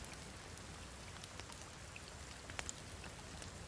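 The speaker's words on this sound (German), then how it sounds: "heute hoffe ich ausnahmsweise mal, dass der Regen nicht so lange dauert" Steady rain falls in the survival video game The Forest, a soft, even patter with occasional distinct droplets, faint and continuous.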